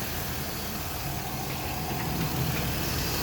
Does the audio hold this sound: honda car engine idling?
yes